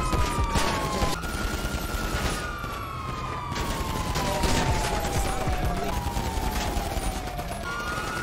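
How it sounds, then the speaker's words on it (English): Rapid bursts of automatic gunfire in the video game GTA 5, repeated cracks over a wailing police siren that sweeps down in pitch several times, with no talk. "We got automatic gunfire."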